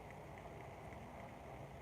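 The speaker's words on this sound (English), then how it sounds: "You can hear the rain whipping over the loud air conditioner that we have." Rain falls outside over the steady hum of a loud air conditioner, a faint, even wash of noise with a constant drone and no talking.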